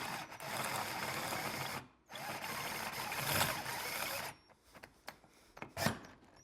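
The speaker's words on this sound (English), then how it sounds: "So why don't you go ahead and drill that thing out." A drill with a 12mm bit and cutting oil boring out a shock absorber top, two long steady grinding runs with a brief pause between, then scattered scraping and clicks, close by.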